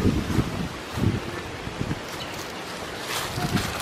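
Strong wind blows outdoors in a backyard garden, buffeting the microphone in roaring gusts that swell and ease over a few seconds.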